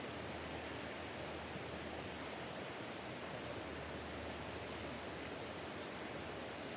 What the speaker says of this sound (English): I'm going to hope that I can just find some AI software that'll remove the river sound